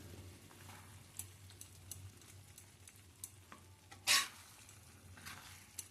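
An egg tadka lentil dal is stirred in a pan, with quiet scraping and soft sizzling and a single sharp metallic clink partway through, and no talking.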